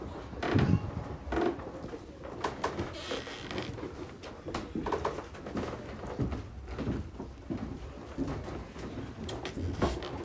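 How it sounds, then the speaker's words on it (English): Quiet indoor ambience of the Richard Booth Bookshop in Hay-on-Wye, with soft footsteps, shuffling, and occasional knocks and thuds, a faint murmur of activity in a calm room. "This is the sound of the Richard Booth Bookshop."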